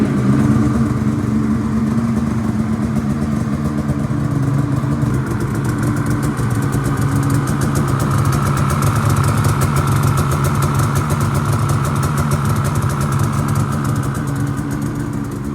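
A dirt bike engine with an aftermarket cylinder head idles steadily after starting, a loud, close, continuous chugging rumble with no talking over it.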